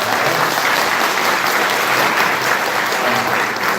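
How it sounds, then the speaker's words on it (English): Seminar audience applauding at the close of a panel discussion at an international seminar; steady, dense clapping fills the room evenly from start to finish without a break. "Can we please applause for"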